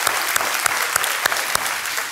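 Studio audience of a TV quiz show breaks into dense, steady applause, loud and continuous with a few sharper claps standing out.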